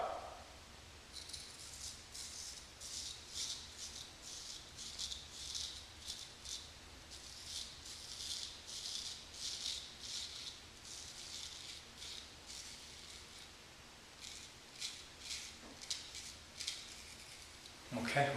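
Straight razor scraping across the skin of the chin and neck, a close series of short rasping strokes in bursts, fairly quiet and steady, with brief pauses between passes.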